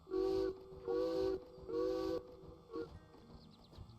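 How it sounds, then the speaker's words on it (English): Steam locomotive whistle in the Derail Valley train game, three loud hissing blasts in quick succession followed by a short fourth toot, ending in faint hiss. "Blow the whistle."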